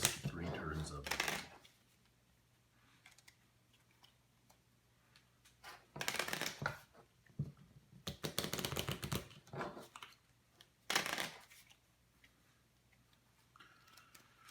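Deck of cards for the board game Ukrainian Crisis shuffled by hand in several separate riffling bursts, close and crisp, with quiet pauses between them.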